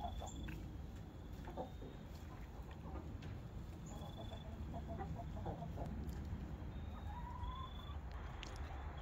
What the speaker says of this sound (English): Chickens are going to sleep.